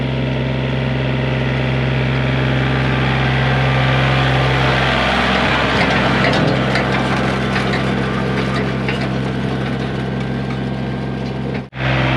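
An old tractor engine runs continuously while seeding a yard, a loud, steady mid-pitched drone with a strong low hum that holds throughout before briefly dipping near the end.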